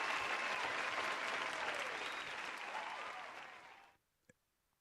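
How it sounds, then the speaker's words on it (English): A crowd claps and cheers steadily, the applause gradually fading out, followed by a single faint tick in the quiet. "Once again, another round of applause for Star."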